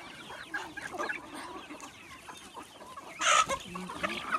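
Free-range country chickens on a farm cluck and call while being fed in the morning, a busy chorus of nearby fowl with a louder burst of clucking near the end.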